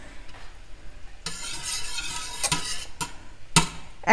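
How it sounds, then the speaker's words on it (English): A dairy-free milk mixture being whisked by hand for vegan ice cream, with steady scraping and frothy stirring that grows busier and louder, broken by a few sharp clinks against the bowl. "it'll be a lot harder to whisk it than you first whisk it"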